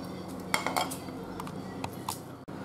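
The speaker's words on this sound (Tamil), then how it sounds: "இப்போ இதை நம்ம வந்து ஃபில்டர் பண்ணி எடுத்துக்க போகிறோம்" Metal utensils clink and tap against pots while a herbal decoction for children is strained through a filter, a few sharp, close clinks scattered over a quiet background.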